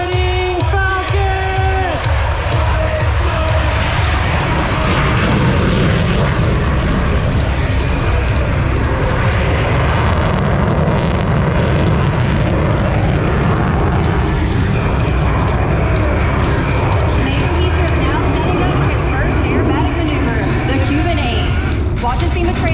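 An F-16 Fighting Falcon makes an afterburner pass at an air show, a deep continuous roar filling the whole stretch beneath a loud announcer and crowd noise.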